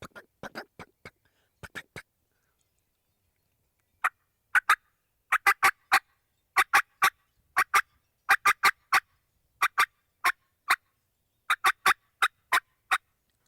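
Rapid, sharp clucks cut on a turkey mouth call, a voice-made imitation of a turkey delivered in quick irregular bursts after a short pause, loud and close with silence between.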